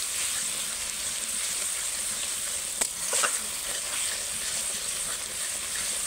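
Spice paste sizzling steadily in oil in a pan while coriander leaves go in, a continuous close frying hiss with a brief stirring clatter midway, no voices.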